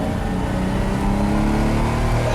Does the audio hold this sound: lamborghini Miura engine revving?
yes